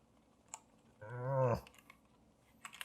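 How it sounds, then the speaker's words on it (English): Keycaps and an optical switch being tugged out of a GK61 hot-swappable keyboard: a few light clicks, then a short strained creak around the middle, followed by faint scattered ticks. "So yes, you can pull the switches out. I'm gonna try to pull it out right now."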